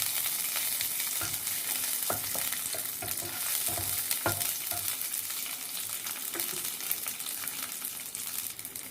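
Cashews, raisins and a bay leaf fry in fat for saffron payesh, a soft, steady sizzle punctuated by repeated light scraping and tapping of a stirring spoon, with no voices.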